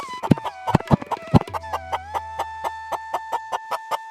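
A cartoon chicken clucks in a rapid, rhythmic series of loud, close, sharp clucks over a steady tonal music bed, the clucks coming evenly spaced throughout.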